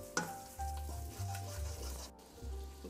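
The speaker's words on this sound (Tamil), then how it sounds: "இப்பொழுது நான் 15 நிமிடங்கள் கைவிடாமல் கிண்டியுள்ளேன்" Thick wheat halwa stirred continuously in a pan, a soft steady sizzle with scraping and stirring strokes, close and fairly quiet, with no talking.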